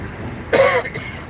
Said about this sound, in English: Yeah, I'm coughing, but I don't have any other symptoms.